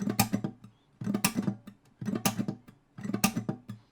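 Acoustic guitar played in a quick fingerpicked and strummed groove, the same short rhythmic pattern repeating four times in a steady pulse.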